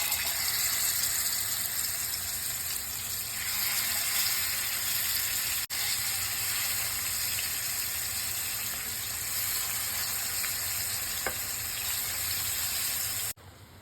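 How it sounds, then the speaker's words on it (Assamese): Marinated chicken pieces fried in rice bran oil in a pan give a steady, loud hiss and sizzle that runs almost unbroken, with a faint clink near the end and no voices. "এতিয়া মই এই মেৰিনেট কৰি থোৱা চিকেনখিনি মই এপিচ এপিচকৈ ফ্ৰাই পেনখনত দি যাম"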